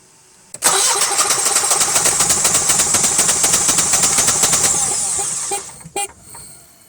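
A Generac Honeywell generator engine cranks over with a rapid, rhythmic churning from the starter for about five seconds, close and loud, then cuts off with a brief sputter before going quiet.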